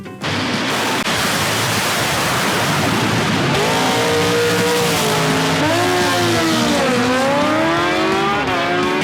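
A jet-powered drag racing car at a night drag racing event thunders in a loud, sustained roar right from the start, with rising and falling engine tones layered over the rumble and no voices.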